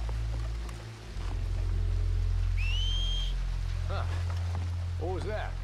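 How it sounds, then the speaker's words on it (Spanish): One clear whistle in Red Dead Redemption 2 rises and then holds a bright steady note for under a second. It sits over a low ambient rumble, and voices speak shortly afterward. "Make a noise. Whistle or something."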